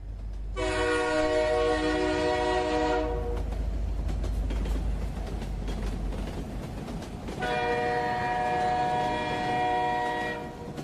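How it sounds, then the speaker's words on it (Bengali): A train horn blares in two long, loud blasts separated by a few seconds, over the steady rumble of rail cars starting to roll. "অবশেষে ট্রেন ছেড়ে দিল"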